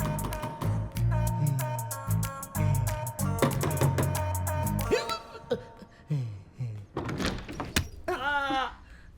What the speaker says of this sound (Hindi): आधे घंटे से दरवाजा पीट रही हूँ मैं, सुनाई नहीं देता इसे।